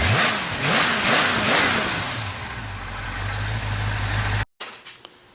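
A 1966 Chevy truck V8 engine on a test stand revs up and down in several surges, then settles into a steady idle before cutting off abruptly, with a few faint clicks afterward.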